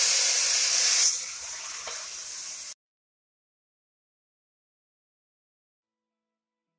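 Cooked buffalo meat being stirred into sautéed masala in a pan, a loud hissing sizzle for a few seconds that eases slightly, then cuts off into silence.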